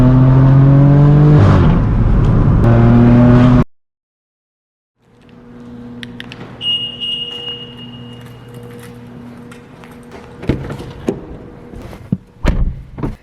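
A straight-piped BMW M4 F82 with a loud exhaust revs hard up close, then cuts out to silence before low cruising drone returns with clunks and brief whirs inside the car.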